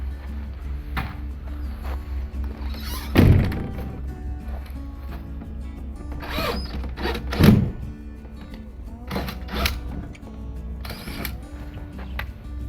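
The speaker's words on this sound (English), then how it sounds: "Now I'm going to put the screws in" Screws being driven into a pop-up camper during a conversion, with two heavy grinding bursts standing out over a steady mechanical hum, plus scattered lighter clicks and knocks from nearby work.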